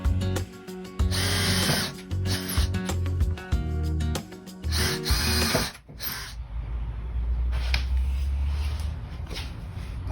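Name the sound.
power drill drilling a pilot hole in wood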